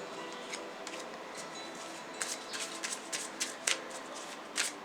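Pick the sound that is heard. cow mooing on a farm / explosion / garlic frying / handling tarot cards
handling tarot cards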